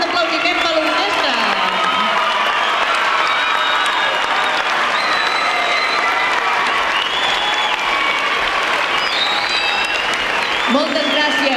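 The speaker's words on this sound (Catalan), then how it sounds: "Un fort aplaudiment per l'orquestra." Sustained audience applause for an orchestra at a Christmas cantata concert, a dense, steady wash of clapping from a large crowd lasting throughout, with some voices and tonal sounds mixed in.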